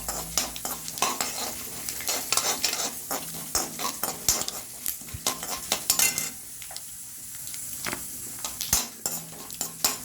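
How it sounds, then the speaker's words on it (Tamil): Mustard seeds, urad dal and chana dal sautéing in hot oil with steady sizzling, crackling pops and repeated stirring scrapes of a spoon against the pan, close and fairly loud with no talking. "எண்ணெய் காஞ்சதுங்க, கொஞ்சம் கடுகு சேர்த்துக்கலாம், கொஞ்சம் உளுந்தப்பருப்பு, கொஞ்சம் கடலைப்பருப்பு சேர்த்துக்கின்னு இதை வதக்கலாம்."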